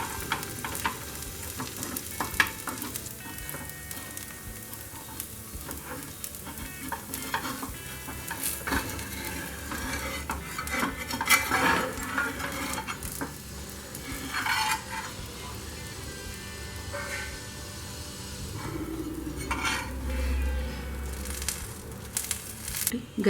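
A crisp brown rice dosa fries on a hot pan, giving a steady, close sizzle with stirring and scraping textures throughout and no talking.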